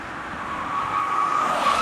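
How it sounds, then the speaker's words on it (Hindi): A car pulling up outside an auditorium to be parked, a steady close engine hum and tyre rush that builds slightly as it rolls in, with no voices over it. "गौतम, गाड़ी पार्क कर दो।"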